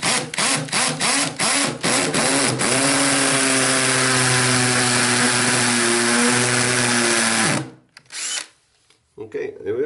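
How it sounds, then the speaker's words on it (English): Hammer drill boring a hole into an internal brick cavity wall: a few short bursts, then a loud sustained whining grind for about five seconds, stopping abruptly with some handling clatter afterward. "So I'll just quickly drill this hole."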